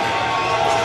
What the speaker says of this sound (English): She's got her spotters and loaders cheering her on.